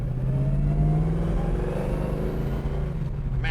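A 1968 Chevrolet Chevelle SS with a four-speed and loud exhaust pipes, its V8 engine rumbling close and steady as it accelerates, with deep low-frequency roar and rising harmonics throughout and no talk.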